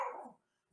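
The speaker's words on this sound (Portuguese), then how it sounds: "minha cachorrinha tá dando um chilique aqui" A small dog gives one short, sharp bark indoors, close and moderately loud, then a brief silence and the start of another yip.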